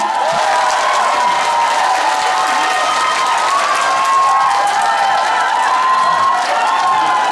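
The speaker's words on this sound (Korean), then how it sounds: "박수 한번 주세요." A crowd at a year-end evening concert event in Uljin applauds and cheers loudly and continuously, many hands clapping in a dense wash mixed with whoops and shouts for several seconds, filling the hall without a break.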